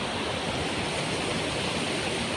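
Swollen river rushing after monsoon rain, a steady broadband roar of churning water close by with no break, alone and without talk.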